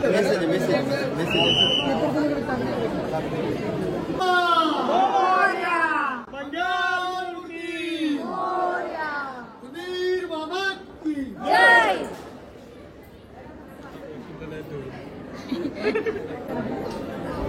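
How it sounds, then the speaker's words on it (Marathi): A crowd chatters steadily while waiting in line for darshan at the Varadvinayak Ashtavinayak temple, with overlapping voices, occasional louder calls and shouts, and a continuous dense hubbub throughout. "खूप गर्दी आहे दर्शनासाठी."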